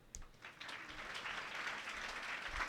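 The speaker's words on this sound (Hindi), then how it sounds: "एकदम ताली बजाओ इनके लिए" Applause rises from an audience at a devotional gau katha gathering, a faint, continuous patter of many hands clapping at a distance for a few seconds.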